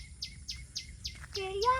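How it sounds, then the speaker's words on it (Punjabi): Small birds chirp in a quick series of five short, bright tweets, then a brief warbling call, close and clear over a quiet low background. "ਚਿੜੀਆਂ ਇਹ"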